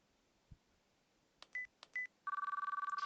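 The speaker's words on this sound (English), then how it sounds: "The phone rang for a moment," A smartphone in the video game Chaos;Child dials with two short electronic key beeps, then gives a steady pulsing ring tone that repeats rapidly and clearly with no voices over it.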